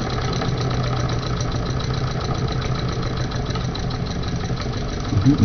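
A stationary engine throttled down to a steady idle during a flywheel experiment, its low mid-pitched running continuous and fairly close, with no talk over it and a slight rougher surge at the very end.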